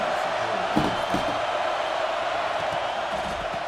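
A roaring stadium crowd in the NCAA 26 college football video game keeps up a steady, dense wash of cheering with a few sharper thumps, while commentary plays over it.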